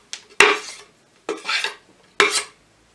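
Chopped peppers drop into a pan in three separate sharp clattering bursts, each a quick metallic rattle and scrape that fades fast, with no one talking.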